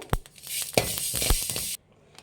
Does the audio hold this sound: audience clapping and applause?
no